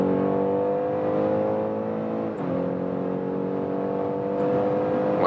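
A 2021 BMW X3 30e plug-in hybrid SUV accelerates in sports mode with interior sound actuator, humming steadily with a smooth, rising drone, dipping briefly midway as if shifting gears, then continuing to pull strongly.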